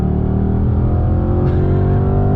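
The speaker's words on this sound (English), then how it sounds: "All right, guys, once again, on throttle, here we go" A loud engine of a Range Rover Velar SVAutobiography Dynamic Edition roars steadily close by, its pitch holding under hard throttle without a break.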